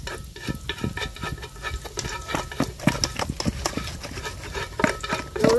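Garlic and onion fry in hot oil, a dense crackling sizzle with frequent stirring clatters and utensil scrapes, close and fairly loud throughout, with no talk.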